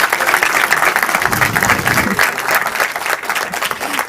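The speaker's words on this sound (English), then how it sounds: "Guys, let's just please give a huge round of applause for this amazing." An audience at a peace and sustainable development master class applauds, a close, dense clapping that continues steadily, with voices murmuring faintly beneath it.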